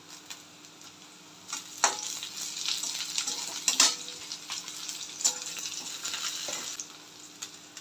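Chopped onion and green chilies frying in a pan for an okra sabzi, a continuous bright sizzle broken by frequent stirring scrapes and clinks of a spoon against metal, close and steady.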